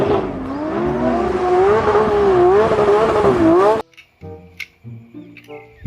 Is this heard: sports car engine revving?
yes